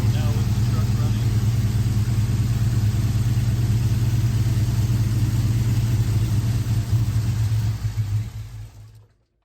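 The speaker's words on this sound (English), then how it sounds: "Now with the truck running" A GM truck engine from the 1999–2007 range, fitted with upgraded injectors, idles with a steady, loud low rumble. It runs evenly for about eight seconds, then fades and dies away to silence.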